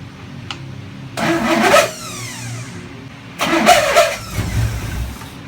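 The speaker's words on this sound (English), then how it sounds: "that was literally the first time this engine has ever fired" A freshly built car engine, just set up for cam break-in, cranks and fires for the first time in two loud attempts. Each catches briefly with a rough burst of revving before dying back.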